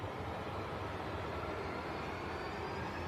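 Two Jet2 Boeing 737s push back at an airport, a steady broadband rumble of engines and ground noise held at an even level throughout, distant and continuous with no talk.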